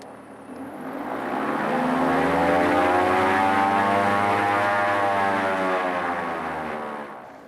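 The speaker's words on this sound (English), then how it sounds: "It runs the engines up without the throttles even moving" Aircraft engines run up under FADEC control during an automatic diagnostic check, a loud steady propeller drone that swells and holds for several seconds with a rising and falling whine.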